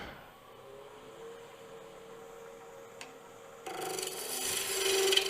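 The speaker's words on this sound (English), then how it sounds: "Let's get the speed of the lathe up." A wood lathe turns a small wooden finial, first a quiet steady hum with a faint tick. Partway through it jumps to a louder, brighter rasping whir that keeps building.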